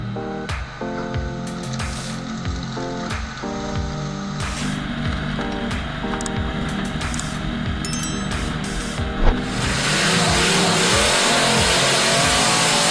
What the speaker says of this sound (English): the 60 cubic centimeters saw with a piston lift handles each log swiftly